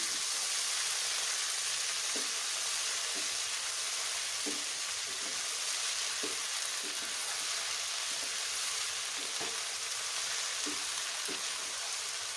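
Okra frying on a medium flame gives a bright, steady crackling sizzle, with soft periodic taps of a spatula stirring roughly once a second and no voices.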